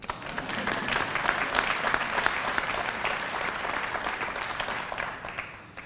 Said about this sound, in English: You could clap on that one.